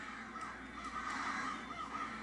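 Crows caw in a short burst of harsh, rasping calls that overlap one another, with no talking over them.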